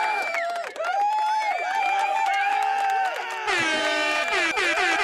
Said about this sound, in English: Oh, I get the crowd and the air horn.